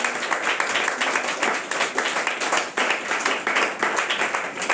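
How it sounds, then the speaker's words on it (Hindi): Church congregation clapping hard and steadily during a Hindi sermon, a dense wash of many hands filling the room throughout with no pauses. "ताली बजाने को तो कंजूस मत हो, जोर से बजा।"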